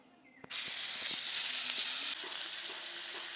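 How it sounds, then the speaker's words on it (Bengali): Onion paste hits hot oil in a pan where fish was just fried, bursting into a loud, steady sizzle after a brief quiet moment and holding close and strong before easing slightly. "আমরা পেঁয়াজ বাটা দিয়ে দেবো"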